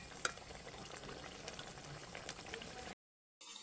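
Mayonnaise chicken simmering with a little added water in a pan, a dense continuous bubbling and light sizzle heard up close, cutting briefly to silence near the end before resuming.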